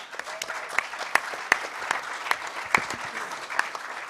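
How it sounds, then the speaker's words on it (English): Applause from a hacker conference audience at The Last HOPE in 2008, a steady wash of many hands clapping with a few sharper individual claps standing out, fairly close and continuous, with no talking. "give him a huge round of applause"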